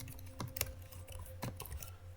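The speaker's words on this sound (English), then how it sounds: "I'm going to do a little typing, see if you can hear me on the keyboard here." Light typing on the keyboard of an Asus ROG Zephyrus 14 (2023) gaming laptop produces a few soft, quick key clicks over a faint background hum, close and quiet.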